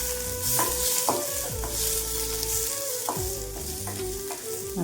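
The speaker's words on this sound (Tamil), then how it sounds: "இப்போ அப்படியே சின்ன வெங்காயத்தை நல்லா வதக்கிக்கலாம்." Small shallots sautéing in a pan for fish curry, a continuous close sizzle with repeated scraping strokes of the spoon, loud and steady with no voices.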